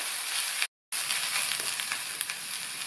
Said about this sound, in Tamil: இந்த மாதிரி இஞ்சி பூண்டு பேஸ்ட் சேர்த்து வதக்கிக்கலாம்